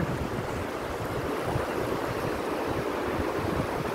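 Steady rushing spring water flows continuously down from a mountain, a broad, even wash of splashing sound close by with no voices.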